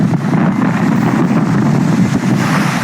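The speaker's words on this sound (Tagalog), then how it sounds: "malakas ang hangin, malakas ang alon." Strong coastal wind roars steadily across the microphone, a dense, continuous rumble with waves faintly mixed in underneath.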